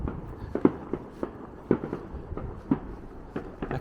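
Fireworks and firecrackers going off at night around Connah's Quay, a North Wales town, near Bonfire Night: scattered sharp cracks and muffled bangs at irregular intervals, mostly distant, over a quiet background.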